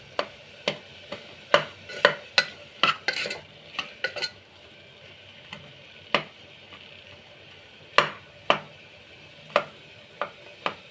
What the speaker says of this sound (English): You can see I am mashing all the tomatoes, but I don't want to mash them fully.